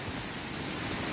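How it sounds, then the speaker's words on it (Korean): Tad Sae waterfall near Luang Prabang, Laos, a steady broadband roar of falling water, close and even, with no voices. "따세 폭포가 계속 이어지고 있는데요"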